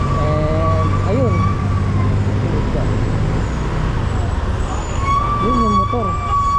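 Ambulance siren wailing on Marcos Highway near Cogeo, Antipolo, Rizal at an accident scene, rising and falling sweeps near the start and again at the end, over steady traffic noise with voices nearby.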